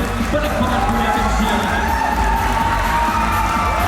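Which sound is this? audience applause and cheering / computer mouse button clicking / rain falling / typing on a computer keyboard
audience applause and cheering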